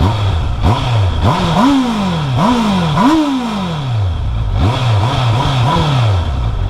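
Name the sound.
stock sport motorcycle engine revving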